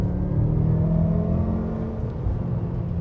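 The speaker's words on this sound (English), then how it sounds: "This is full throttle in third gear." BMW M5 F10 at full throttle in third gear, heard from inside the cabin as a steady, muted engine drone and road rumble that holds for about three seconds, with no talk over it.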